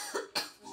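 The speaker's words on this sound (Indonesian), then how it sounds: "Aduh batuk, maaf." A single short, quiet cough, heard alone.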